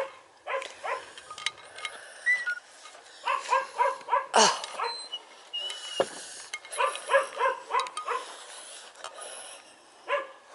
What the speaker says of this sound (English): Farm dog barking, on guard duty, Labrador I think.